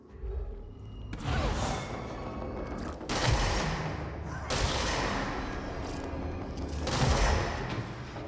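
Video game gunfire: rapid fusillades of shots in sustained bursts, loud and dense, with whooshing impacts and only brief pauses between volleys, no voices.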